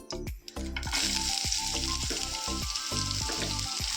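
Green chilies, garlic and onion hit hot oil with a loud, steady sizzle, punctuated by repeated rhythmic stirring or scraping strokes in the pan, close and without speech.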